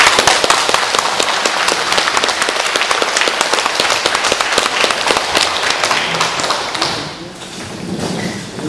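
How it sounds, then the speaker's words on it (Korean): Audience at a lecture claps steadily and loudly for several seconds, dense hand claps filling the room before tapering off near the end. "박수를 한번 쳐주세요."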